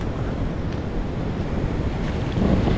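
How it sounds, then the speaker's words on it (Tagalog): Steady roar of heavy surf and rushing water with strong wind buffeting the microphone, continuous and loud throughout. "Malaki ng mga alon, no?"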